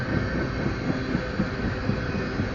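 A BNSF freight train rolling past nearby, a steady broadband rumble and clatter of wheels on rail that holds evenly throughout with no pauses.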